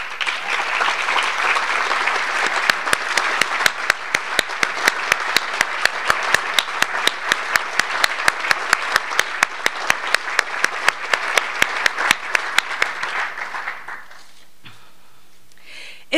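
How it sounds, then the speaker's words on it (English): A crowd at a veteran homecoming event claps steadily for about thirteen seconds, with loud, sharp individual claps standing out over the mass before the applause dies away into a quiet room. "Let's welcome Kyle home with an applause"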